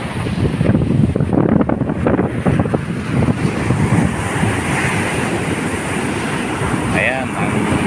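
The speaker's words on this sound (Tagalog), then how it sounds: "Ayan mga boss, oh, ang lalaki ng alon" Large sea waves surge and crash beneath steady, buffeting wind while a monsoon storm strengthened by Typhoon Carina blows along a Philippine coast, with wind rumbling against the microphone and someone speaking briefly over the roar.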